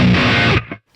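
A short, heavily distorted electric guitar chord rings out in a muddy, bass-heavy 90s nu metal tone, then cuts off sharply after about half a second and leaves a brief fading tail.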